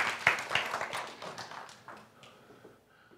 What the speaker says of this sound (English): Someone give God a hand clap.